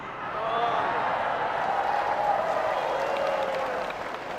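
Audience applause and crowd noise at an Islamic religious lecture, a steady wash of clapping with crowd murmur and a voice running over it throughout.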